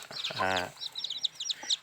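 Chickens cluck in the evening, one drawn-out squawk followed by a run of short, quick clucks, close and fairly quiet.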